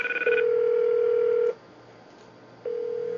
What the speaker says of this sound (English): Ringing on my cell phone.